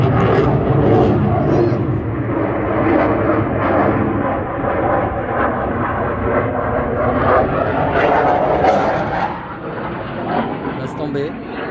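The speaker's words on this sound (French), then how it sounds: "C'est des avions de chasse, il faut un bruit de malade." Fighter jets roar overhead, a loud, dense, continuous rumble that swells and stays heavy for the whole stretch before easing slightly near the end.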